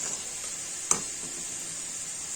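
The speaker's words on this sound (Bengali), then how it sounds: "ঠিক এইভাবে আলুগুলো ভাজতে হবে।" Potatoes frying in a pan give a steady, soft sizzle throughout, with one sharp brief clink or tap near the start, and no voices.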